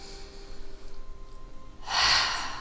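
A single strong exhalation through the mouth during a restorative yoga breathing exercise, close and breathy, rising near the end after a quiet stretch with faint room tone.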